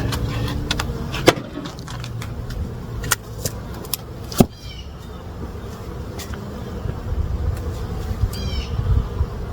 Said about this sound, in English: I got quite a few bees flying out of this box